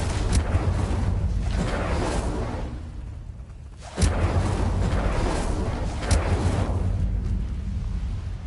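Fiery bursts of the Incendio spell from a video game, two or three whooshing blasts that swell and then fade, the loudest pair arriving near the middle and a smaller flare after, loud and close with no speech.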